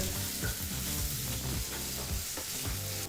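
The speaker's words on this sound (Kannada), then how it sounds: "ಈಗಿಲ್ಲಿ ಈರುಳ್ಳಿನ ಎರಡರಿಂದ ಮೂರು ನಿಮಿಷ ಮೀಡಿಯಂ ಫ್ಲೇಮಲ್ಲೇ ಚೆನ್ನಾಗಿ ಫ್ರೈ ಮಾಡಾಯಿತು" Chopped onions frying in hot oil on a medium flame in a pan, a dense, loud, continuous sizzle with stirring scrapes throughout and no talk.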